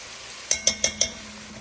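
Sausage and minced garlic cooking in a pot for chili, with four evenly spaced clinks of a utensil against the pot over a low, steady background sizzle.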